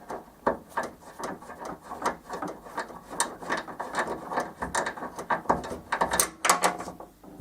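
A hand ratchet clicks in quick, irregular bursts while removing the tailgate bolts on a Ford Focus, close up and fairly quiet, with no talking.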